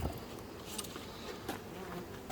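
Honeybees from a nuc colony buzzing steadily and close while the hive is moved into cypress 10-frame equipment, a dense insect hum with faint knocks and handling sounds over it.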